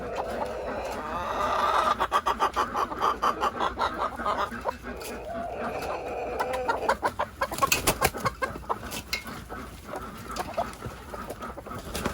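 A broody hen on a farm clucks repeatedly in a steady, close run of short calls, with some rustling and a few louder sharp bursts partway through.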